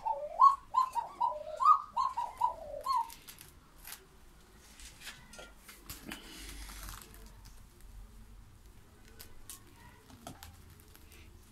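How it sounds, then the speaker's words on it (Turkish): Sivas doves coo in a bird coop, giving a close run of rolling, throaty coos at first, then falling quiet under faint rustling and soft background noise. "Bu öten arkadaşlar Sivas kumrusu."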